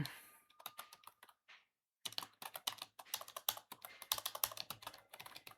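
Fingers type on a computer keyboard in quick irregular bursts of close, crisp key clicks, with a short silent gap before a denser run of keystrokes.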